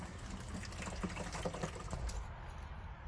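Water splashing and sloshing as a muddy bucket is rinsed out while cleaning Joe Pye roots, a close, busy patter of small splashes and knocks that eases off near the end.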